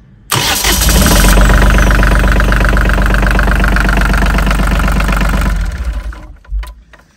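Volvo Penta D1-30 marine diesel cranks and fires right away, then settles into a loud, close, knocking idle that clatters evenly for several seconds before it is shut down and dies away.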